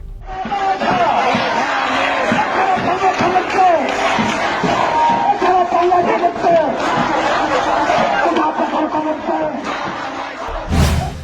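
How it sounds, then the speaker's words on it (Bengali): A large protest march crowd at Dhaka University, 4 July 2024, shouting and chanting in a loud, dense, continuous roar of many voices, closing with a sharp burst at the very end. "বিশাল বিক্ষোভ মিছিলের ভিডিও শেয়ার করে"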